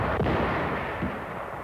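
Bangalore torpedoes and grenades blast apart enemy positions in 1944 wartime combat footage, two dull booming bursts rising out of a constant rough, hissing noise floor.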